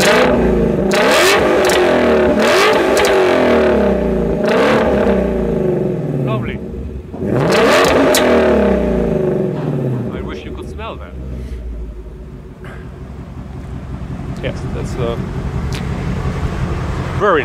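A 2019 Ford Mustang Shelby GT350 with its 5.2-liter flat-crank V8 and sport exhaust revs repeatedly, several loud rising-and-falling blips heard up close, followed by a rougher, lumpy idle.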